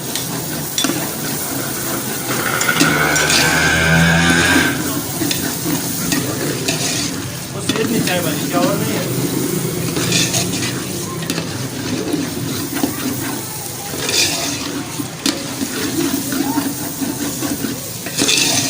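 Potato and pea curry cooking in a pan on the stove sizzles loudly while being stirred, with scraping strokes and bubbling close up over a steady frying hiss, and no talking.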